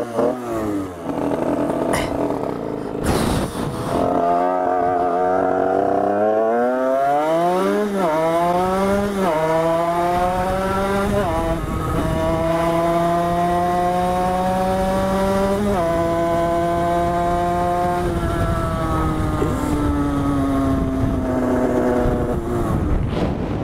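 A 75cc MVT Iron Max moped engine revs hard and close, its pitch climbing and falling in repeated rising sweeps that settle into a sustained high whine, running nearly continuously throughout.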